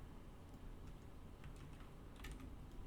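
Faint computer keys, including the Enter key, clicking a few times in CAD software against a steady background hiss, soft and spaced out rather than rapid typing.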